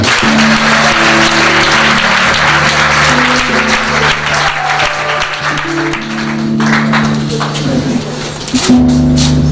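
A church congregation at a deliverance and healing service claps and cheers for the Lord, producing loud, continuous applause over sustained musical tones.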